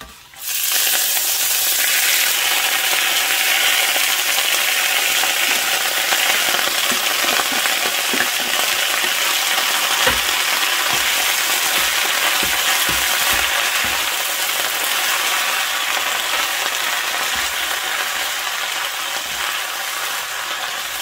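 Garlic and spinach stir-fried in a pan over high heat. A loud, steady sizzle runs throughout, with scraping stirs and clinks from the spatula, and nobody talks.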